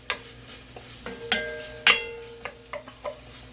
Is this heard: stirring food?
yes